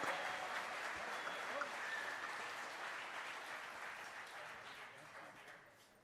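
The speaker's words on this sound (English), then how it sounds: "One very big applause for Team Canada" An award ceremony audience applauds Team Canada at the European Cyber Security Challenge 2024, a broad, distant-sounding wash of many hands clapping that fades gradually over six seconds, with faint voices mixed in.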